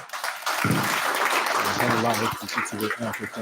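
An audience applauds the Inspector General of Police at a Nigerian Police Force meeting with Police Mobile Force squadron commanders; sustained clapping rises after a brief pause and continues with voices over it.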